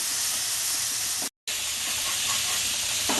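Spice paste frying in oil for a Bengali rohu fish kofta curry makes a constant bright hiss and sizzle, broken by one brief silent gap, with no voices.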